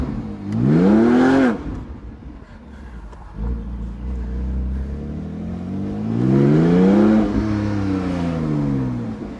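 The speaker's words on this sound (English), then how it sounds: "So, that's what the exhaust sounds like." A Porsche GT4 engine revs loudly twice, each rise and fall of exhaust roar clear and close, with a lower idling drone between the bursts.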